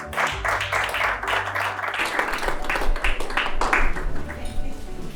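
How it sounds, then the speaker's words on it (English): An audience at a corporate panel event claps steadily for several seconds in a moderately loud burst of applause, with talk mixed in underneath. "You would mind giving a round of applause."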